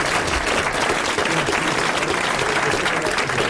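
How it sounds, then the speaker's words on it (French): Studio audience applause at a 1981 French television show, dense steady clapping from a crowd, loud and sustained throughout without a break. "Je vous demande d'applaudir Monsieur Lasserre de Villeneuve-d'Ornon"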